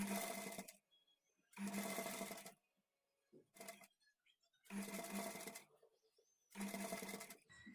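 A sewing machine stitches piping onto cloth with its lining edge, running in five steady bursts of motor whir separated by short pauses, close and fairly loud.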